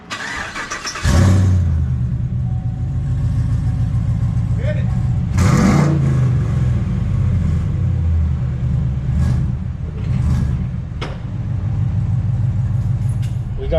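A Chevrolet Silverado Z71 fitted with a smaller Borla stainless steel muffler exhaust starts up and settles into a deep, rumbling idle, with one sharp rev blip midway, while people talk briefly nearby.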